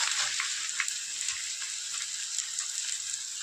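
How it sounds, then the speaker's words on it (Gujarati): Edible gum (gund) and pindiya frying together in hot oil give a steady, close, hissing sizzle with faint crackles, unbroken throughout and with no voices. "એ તેલમાં ગુંદ ભેગા ભેગ તરી લેશું"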